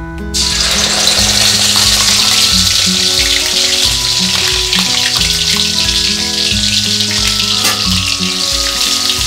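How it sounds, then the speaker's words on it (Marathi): Ground black masala hits hot oil for a Marathi chicken masala, letting out a loud, constant sizzling hiss that stays dense and steady throughout, while a low hum runs beneath it and no one speaks. "आता आपलं तेल गरम झालेले, आता आपण वाटलेला काळा मसाला घालूया"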